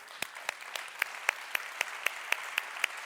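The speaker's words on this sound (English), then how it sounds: "Should we call an applause?" Audience applause at a business angel award ceremony, a steady patter of many hands with regular sharp louder claps standing out, moderately near and continuous with no voices.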